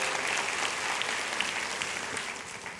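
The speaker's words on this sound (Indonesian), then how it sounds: "kasih tepuk tangan untuk semuanya" A congregation at a church service gives sustained, even applause, a thick wash of many hands clapping at moderate volume for several seconds without speech.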